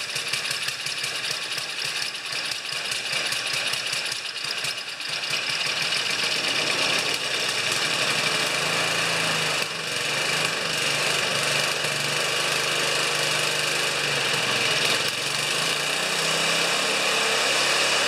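A Craftsman 5HP snowblower engine runs and idles with a steady, close mechanical drone and rapid putter that briefly dips midway, then holds on without speech.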